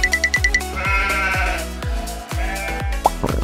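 Sheep bleat in the Minecraft video game, a run of short, close, loud bleats in quick succession, some overlapping, with game music or effects underneath.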